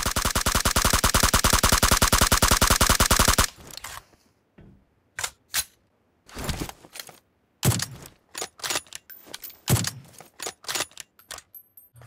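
Gunfire in a battle royale mobile game: a long rapid automatic burst rattles loudly for several seconds, then scattered single shots and short bursts crack irregularly with gaps of silence between them.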